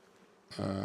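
A honey bee buzzes right against a beekeeper's mesh veil, entering through a small gap during a Langstroth hive inspection, a sudden loud, close drone that starts halfway through and continues steadily.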